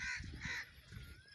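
A crow caws repeatedly in a village at dusk, harsh calls coming in a couple of bursts against a steady outdoor background hum.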